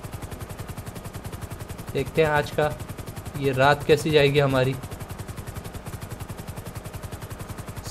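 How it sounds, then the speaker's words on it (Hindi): A Mumbai police helicopter starts up in GTA 5, with its rotor giving a fast, even, continuous thumping throughout while someone talks briefly in the middle. "और हेलीकॉप्टर स्टार्ट करते हैं।"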